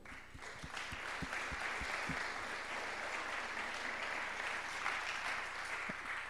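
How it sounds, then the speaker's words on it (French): An audience applauds at the close of a talk on technology in Chinese cities, sustained dense clapping that sounds somewhat distant and moderately quiet throughout. "Je pense qu'on peut vous applaudir."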